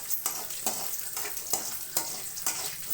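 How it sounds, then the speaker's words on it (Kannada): Curry leaves and chopped onion tempering in hot oil for chilli gravy chicken, with a close, continuous crackling sizzle broken by regular scraping stirs about every half second, with no talking. "ಆಮೇಲೆ ಕರಿಬೇವು ಒಗ್ಗರಣೆಗೆ ಹಾಕ್ತಾಯಿದ್ದೀನಿ."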